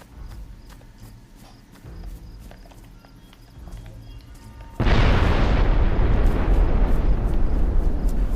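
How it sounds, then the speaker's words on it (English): A gas explosion in the video game DayZ goes off as a sudden loud boom that cuts in partway through and stays as a dense roaring rumble after quieter, clattering game ambience. "Now that was a gas explosion without the missile strike"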